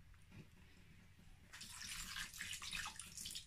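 Water poured into a pot of cooking vegetable rice, a quiet simmer and then a steady splashing pour that runs to the end.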